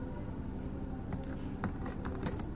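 Typing on a computer keyboard while entering a product name into point-of-sale software: a quiet run of light, irregular key clicks comes in after a moment of room hum.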